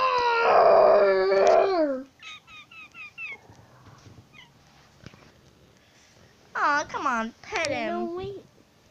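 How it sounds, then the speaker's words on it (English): A little dog whimpers and gives high, wavering howls in two bursts, near and clear, with quieter scuffles and faint sounds in the pause between them. "he's a little doggy"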